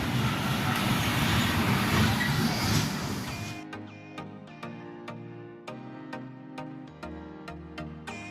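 Sanghamitra Superfast Express, running from SMVT Bengaluru to Danapur, rushes past with a loud, steady roar for about three seconds before it gives way abruptly to quieter tonal sounds with sharp ticks.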